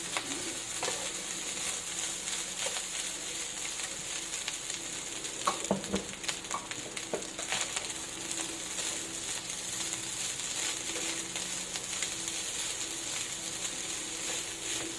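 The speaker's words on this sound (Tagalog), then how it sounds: "Halu-haluin mo lang yan hanggang sa makuha mo yung gusto mong mix ng sinangag." Fried rice (sinangag) made from leftover cooked rice being stirred in a hot pan, a steady near sizzle with scraping stir strokes running throughout, no talking.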